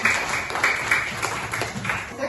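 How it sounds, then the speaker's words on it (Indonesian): A classroom of students claps together for a few seconds, a dense, even patter of many hands at moderate loudness with no pauses. "Oke, tepuk tangan."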